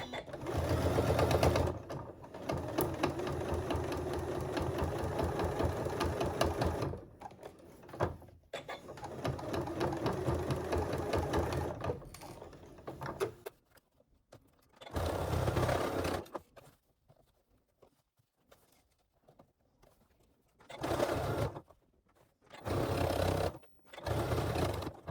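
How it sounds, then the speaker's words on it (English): A sewing machine runs on its free arm, stitching two rows along the band of a fabric chef's hat in long steady bursts of rapid needle chatter separated by quiet pauses. "I'm using my free arm to just stitch 2 rows of stitching along our band to make it nice and secure"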